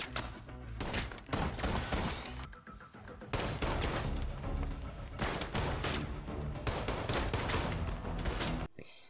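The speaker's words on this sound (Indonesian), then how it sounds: "Tembakan pun terjadi" Loud bursts of gunfire crack in rapid, dense volleys, with brief pauses and crashing impacts between them.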